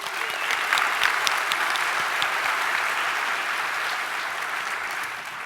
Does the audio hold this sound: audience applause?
yes